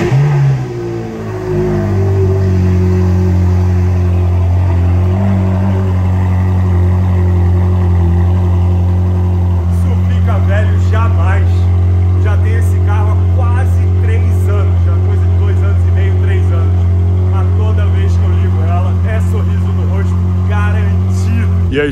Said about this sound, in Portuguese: Que um cold start de 458 é um paraíso.